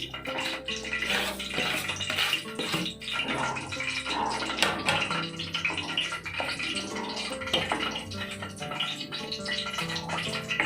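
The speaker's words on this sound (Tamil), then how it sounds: "ரவையை சேர்த்துட்டு கலரி விடுங்க." A utensil scrapes and clatters steadily against a pan while stirring semolina into pineapple kesari, mixing with a soft, watery bubbling, continuous and close with no voices.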